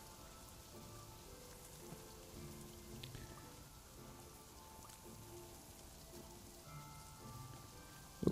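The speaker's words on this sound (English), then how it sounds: "It's raining." Rain in a Minecraft game, a faint, even patter of drops with a soft background hum and a small tap near the end.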